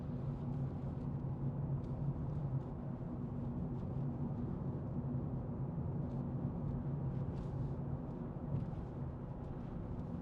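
A 2021 Nissan Micra 1.0 litre turbo petrol with XTRON automatic gearbox pulls up a hill, giving a steady, low engine drone with road and cabin rumble that holds even throughout.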